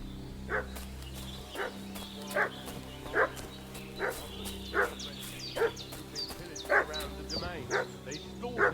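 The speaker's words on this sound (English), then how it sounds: "What's that dog making such a fuss about?" In the video game Kingdom Come: Deliverance II, a dog barks steadily at regular intervals from a short distance, over low ambient background noise and scattered high bird chirps.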